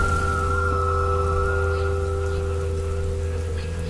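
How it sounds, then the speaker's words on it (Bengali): Cartoon-style Kalbaishakhi storm effect: a steady, dense hiss of rain and wind mixed with sustained tonal hums and a high whistling tone, continuous and loud throughout without pauses. "চারদিকে কালবৈশাখীর ঝড়ের তাণ্ডব চলছে"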